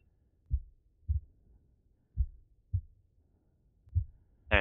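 Heartbeat from the survival video game The Long Dark, a character near death from freezing and food poisoning: six deep, soft thumps in a slow, slightly uneven rhythm, close and alone with no talk.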